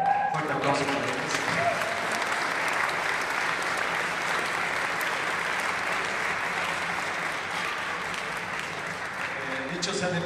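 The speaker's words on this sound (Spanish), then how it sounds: "Fuerte aplauso para ellos." An audience applauds a university ensemble with sustained, even clapping that fills the room, with a few voices faintly audible near the start and end.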